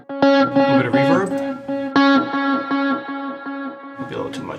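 An electric guitar played through the Neural DSP Archetype Plini plugin rings out sustained notes and short soloing phrases with reverb, each note decaying in a wet tail, and someone talks briefly between phrases.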